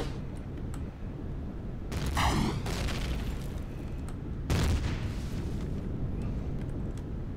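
Enemy fire in the space game Empyrion Galactic Survival: two loud bursts of rapid shots with a booming low rumble, the first around two seconds in and the second a couple of seconds later, over a steady background drone.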